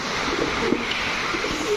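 Racer pigeons at a farm coo softly in low, brief murmurs against a steady hiss of background noise.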